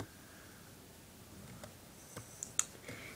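A computer mouse gives a few soft clicks in a quiet room, two or three faint taps close together near the end, with nothing else but low background hiss.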